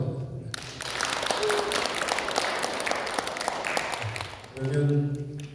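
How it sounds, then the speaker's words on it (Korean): An audience at a Korean citizens' forum applauds a professor after a presentation, a steady burst of clapping that swells and then tapers, with a voice speaking briefly at the start and again at the end. "우리 교수님께 큰 박수 부탁드립니다"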